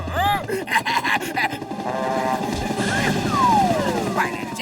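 In an animated Motu Patlu movie set in Hong Kong, a helicopter whirs under cartoon voices that shout, groan and talk.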